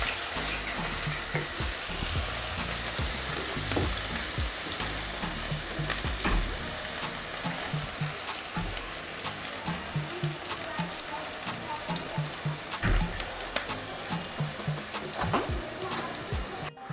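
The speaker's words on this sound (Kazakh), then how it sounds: "Енді оның үстіне пиязымызды саламыз. Енді қызарғанша қуырып аламыз." Chopped onion sizzling and crackling in hot olive oil in a pan, a steady close-up fry with scattered pops and occasional stirring clatter, no talking.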